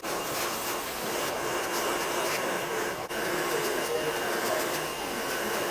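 A steady, loud hair blow dryer roars continuously with a broad airy hiss while a client's hair is styled with a brush, barely changing pitch except for one brief dip midway.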